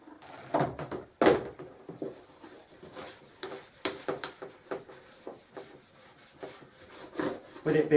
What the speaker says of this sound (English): And then I've got a warm paintbrush. Just start to wash and scrub this.